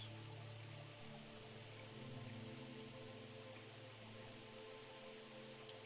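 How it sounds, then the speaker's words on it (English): Steady rain falls in a still, quiet setting, a soft continuous patter with no voices or other sounds. "with just the sound of the rain"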